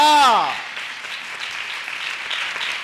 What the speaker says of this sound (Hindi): ताली बजाए, खुदा की महिमा कह ले।